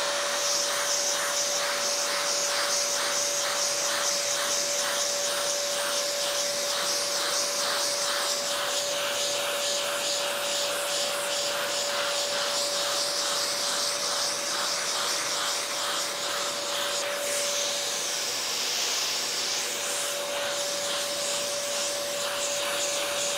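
Dust extractor vacuum running continuously while a sanding block works a surface, a loud steady whine with a fixed tone and rough scrubbing texture riding on top.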